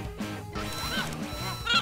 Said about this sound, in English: And now, Dick Cheney duck hunting in 2099